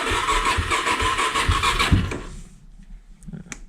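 A Suzuki DRZ400S motorcycle engine cranks and sputters close by, running rich and nearly catching, with a dense mechanical churn that cuts off after about two seconds into quiet with a couple of faint clicks.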